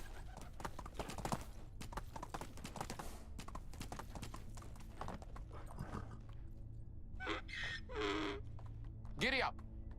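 Horse hooves clip-clop at a steady pace in the medieval village game Medieval Dynasty, a continuous trotting patter with a voice breaking in near the end.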